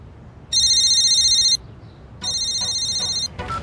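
A mobile phone ringtone in Haiti plays two loud, electronic trilling bursts, each about a second long and separated by a short gap, with a brief clatter at the end.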